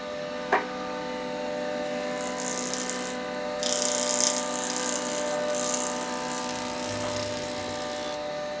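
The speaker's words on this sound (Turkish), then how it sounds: "Planya dediğimiz makine ile ahşapla tamamen pürüzsüz hale getirilmektedir." A wood planer smooths timber for a wooden house in a workshop, giving a steady mechanical drone with a constant tonal hum and a bright, rasping cutting noise that swells and holds over several seconds, loud and close.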